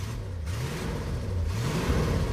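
A 1964 Ford Mustang's 289 V8 engine idles with a low, uneven burble and rises into a couple of soft revs, steady and fairly close, with no talking.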